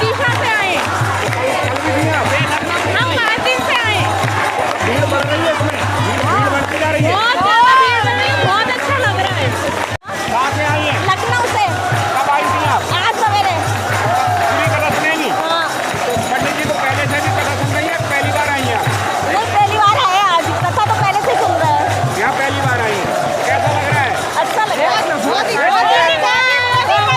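A crowd fills a Pradeep Mishra katha pandal at night, a dense steady hubbub of many voices chattering close and far, with a low continuous hum under it and occasional shuffling and footsteps.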